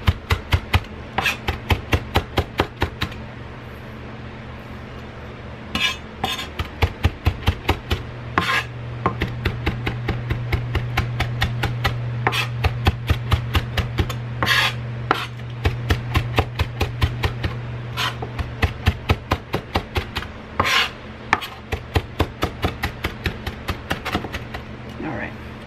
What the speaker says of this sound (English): I'm just going to cut up some of the cilantro